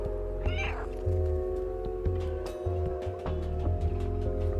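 A cat in the video game Stray meows several times over a steady electronic hum and rhythmic low thumps, the calls moderately loud and close.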